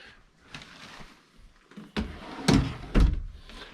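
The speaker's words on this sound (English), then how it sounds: "the drawers have the ball bearing full extension drawer guides" Ball bearing full extension drawers on a nightstand in a Forest River Quailridge 39CBDL tiny house being pulled open and pushed shut, giving a few close thunks and sliding rumbles, with the loudest bumps near the end.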